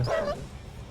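Dogs bark in the Red Alert 2 strategy video game, a single short yip or bark at the start that quickly fades into low game background noise.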